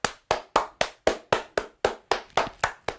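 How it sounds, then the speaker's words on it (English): Big sumo-style hand claps, twelve sharp loud claps in a steady even rhythm about a quarter second apart, close and alone with no talking. "big sumo clap in the middle, straight ahead of you, in front of your heart"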